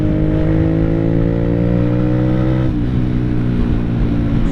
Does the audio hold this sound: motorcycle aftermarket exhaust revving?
yes